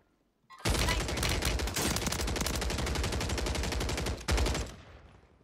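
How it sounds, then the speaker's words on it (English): Sustained automatic gunfire from a Draco in Warzone on Rebirth Island, with a rapid unbroken burst of loud close shots lasting about four seconds, a short break near the end, then a final flurry. "I was just shooting"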